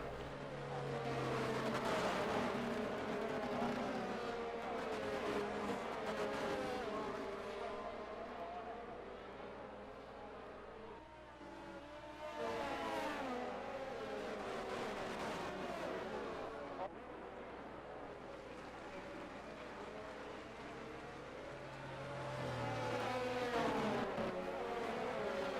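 Formula One race cars lapping in the F1 22 video game at the Australia round, a steady dense engine roar with whining revs rising and falling throughout, heard under a commentator's talk.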